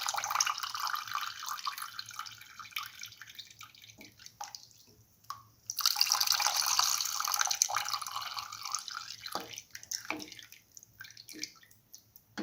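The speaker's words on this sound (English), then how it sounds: "Now pour in the freshly made coconut milk." Freshly made coconut milk poured into a mung bean vermicelli soup, a steady close liquid splash that pauses briefly and resumes, then trickles and drips toward the end, with no voices.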